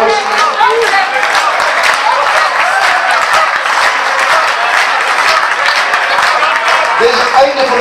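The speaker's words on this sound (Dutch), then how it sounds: "Nogmaals applaus voor de 3 jongens." An audience at the close of a quiz evening gives a burst of steady, dense applause that stays loud and sustained from start to finish, with many hands clapping at once.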